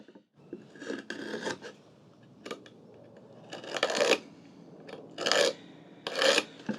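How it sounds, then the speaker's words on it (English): A steel chisel pared back against a marking-knife line in wood, giving soft scraping cuts in irregular bursts, fairly close and quiet, with no talking. "you would then come in with a chisel like so, cut back against that"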